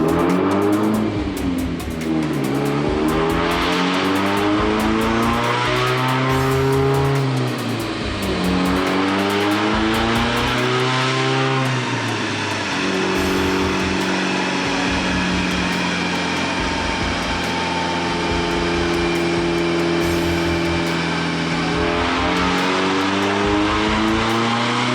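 A big-turbo Mazdaspeed 3 makes a full pull on dyno rollers: a loud, close engine climbs in pitch through the revs, eases, climbs again and then holds a steady high drone with whine and rumble, and no one speaks.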